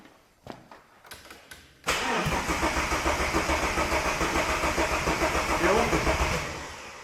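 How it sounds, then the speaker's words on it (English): A car engine, newly installed in an engine swap and running without an alternator, cranks briefly a few times and then catches, settling into a loud, steady, close idle with a rapid pulsing rhythm. "So we'll just hopefully turn the key and it'll start."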